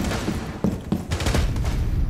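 Rapid bursts of gunfire rattle through a Rainbow Six Siege team deathmatch round on the Club House map, a few sharper shots standing out over dense continuous firing, no voices heard.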